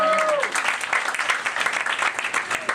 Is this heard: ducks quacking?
no